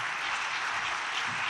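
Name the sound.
audience applause at housing ceremony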